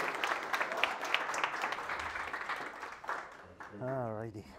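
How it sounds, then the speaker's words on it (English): An audience at a React meetup applauds speaker Stoyan with a few seconds of steady clapping that fades, then a voice begins talking. "Let's get a round of applause for Stoyan"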